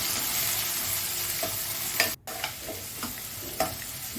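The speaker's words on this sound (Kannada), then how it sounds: "ಈರುಳ್ಳಿನೂ ಅಷ್ಟೇ ಒಂದೆರಡು ನಿಮಿಷ ಚೆನ್ನಾಗಿ ಎಣ್ಣೆಯಲ್ಲಿ ಹುರ್ಕೋಬೇಕು" Onions frying in oil for palak pappu: a steady close sizzle broken by occasional spoon scrapes against the pan, with one brief dropout midway.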